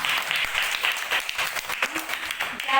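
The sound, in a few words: classroom applause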